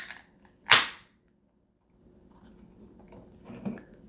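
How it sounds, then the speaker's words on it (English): A can of Sand City Brewing Company Cosmic Disorder double IPA cracked open with a single sharp, close pop and brief hiss, followed by near silence and faint handling. "So let's crack this bad boy open."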